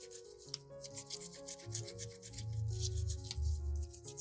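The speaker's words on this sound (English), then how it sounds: "Use a toothbrush to scrub the skin." A toothbrush scrubs the skin of fresh ginger root with steady, close rubbing strokes that grow louder and denser partway through, with no talking.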